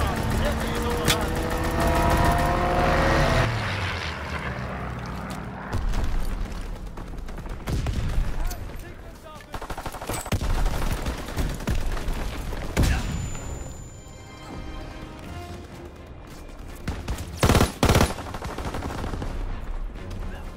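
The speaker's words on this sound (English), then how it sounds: "Fighter pilot inbound, strafing the target." Strafing gunfire from a fighter plane in Call of Duty WW2 multiplayer, rapid bursts of automatic fire and booms mixed with engine roar and game chatter, loud and chaotic throughout.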